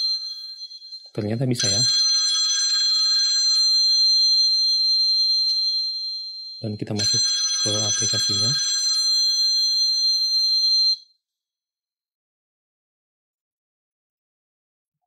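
A smartphone triggered by a whistle-activated finder app rings with bright repeating electronic bell tones in two long bursts, loud and close, with a person speaking briefly between and over them before sudden silence.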